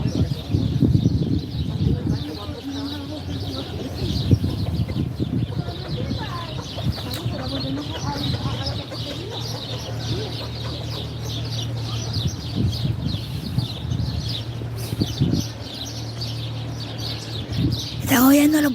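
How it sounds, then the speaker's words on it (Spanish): Many small birds chirp and sing in a dense, continuous chorus near a henhouse in Villaviciosa, Asturias, with roosters and hens mixed in and a person talking over it throughout. "¿Están oyendo los pajaritos?"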